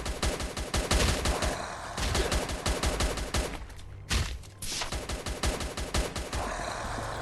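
Rapid, dense bursts of automatic gunfire from the survival video game Last Day on Earth: Survival rattle almost continuously, loud and close, with a brief lull just before the shooting resumes.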